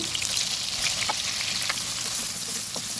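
Dried prawns fry in hot oil in a pan for gongura prawn curry, giving a steady, close crackling sizzle with scattered small pops throughout and no voices.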